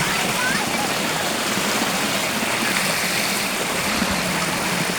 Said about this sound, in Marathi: तर हा धबधब्याचा